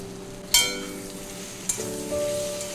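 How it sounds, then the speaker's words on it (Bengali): Potatoes and long beans sautéing with spices in a pan, with two sharp metallic scrapes of a spoon against the pan over a steady sizzle, close and fairly loud. "ভালো করে কষে নিতে হবে"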